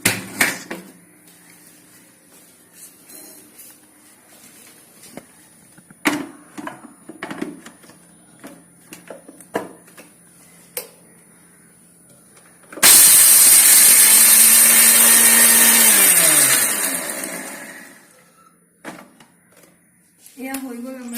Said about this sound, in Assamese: এইখিনি এতিয়া মই মিক্সাৰ গ্ৰাইণ্ডাৰত দিম।